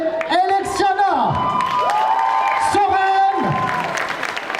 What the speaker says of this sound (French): Messieurs, dames, je voudrais que vous applaudissiez, s'il vous plaît, nos 3 jurés